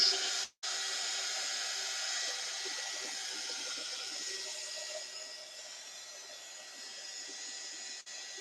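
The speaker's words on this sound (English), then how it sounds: "Thank goodness for this heat dryer." A heat gun used as a craft dryer blows with a steady, close, airy whoosh, briefly cutting out twice before resuming its constant hiss.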